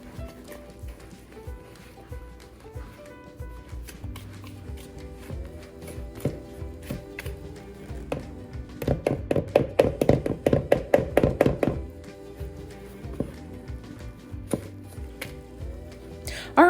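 Banana bread batter being mixed by hand in a bowl before butter and banana go in, a steady run of soft tapping and scraping strokes that speed up into a dense, louder burst midway, with no talking.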